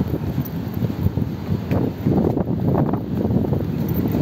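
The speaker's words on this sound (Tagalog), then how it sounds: "Wow. Windy." Steady wind blowing across a microphone outdoors by a road on a school walk, with broadband rumble and gusts swelling louder in the second half, continuous throughout.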